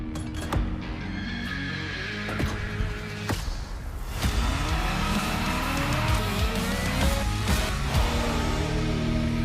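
A Ford Mustang GT Fastback driven in a racing video game: a steady engine drone with revving shifts and brief tire skids and squeals, loud and close throughout with no talking.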